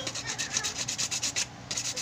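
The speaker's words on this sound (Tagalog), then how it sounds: "kaya nililiha ko na lang po" Sandpaper rubbing against a PVC holster, a steady run of quick back-and-forth scratchy strokes with a short pause near the end, close and fairly quiet, no voices.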